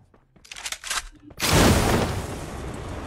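Gunfire in a video game: a few short sharp shots, then a loud blast that decays into a lingering rumble, close and forceful.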